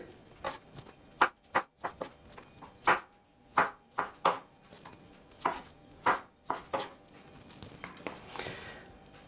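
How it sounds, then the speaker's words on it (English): A knife chopping tomatoes into pieces on a cutting board, giving a series of distinct, irregularly spaced thuds, some in quick pairs, close and fairly quiet with brief pauses between cuts. "Now we take the tomatoes and we cut them in about pieces this big."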